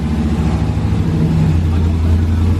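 Cammed Ram truck engine running close by with a loud, lumpy, rumbling idle that rises slightly as it revs, steady throughout.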